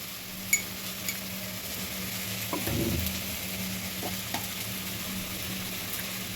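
Onion, ginger and garlic frying in a pan with salt added, giving a steady low sizzle with a brief louder burst of stirring near the middle, then a few faint utensil clicks.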